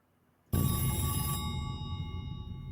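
An old-style telephone bell rings loudly in a TV series trailer, a sudden brassy ringing burst over a low rumbling background that continues steadily to the end.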